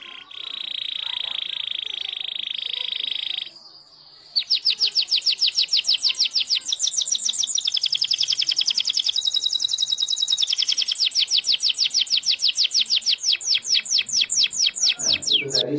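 Canary singing, used as a training song for a white-rumped shama: a bright rapid trilling stream of chirps, loud and close, preceded by a steady high whistle-like tone and a brief pause.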